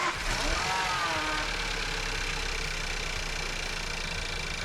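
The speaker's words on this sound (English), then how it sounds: "I'll leave it on level and start the engine" A VW Golf 1.4 TSI engine, mid timing-belt replacement, runs at a steady, fairly loud idle with a dense mechanical hum that holds even throughout, close to the car.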